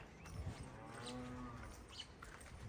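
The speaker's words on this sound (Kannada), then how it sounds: "ಯಾವುದೋ ಹಸು ಸೌಂಡ್ ಕೇಳಿಸ್ತಾ ಇದೆ." A cow lowing once in the distance on a clear, cold morning in the hills around Ooty, a single drawn-out moo over quiet open-air background.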